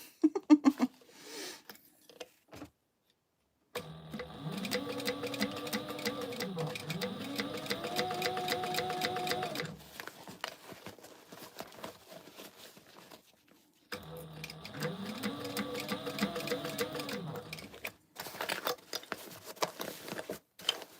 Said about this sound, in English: now we're gonna stitch this baby on and pray for the best